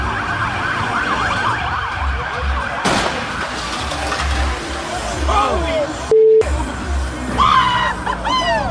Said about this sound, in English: a DC police cruiser speeds toward an active shooting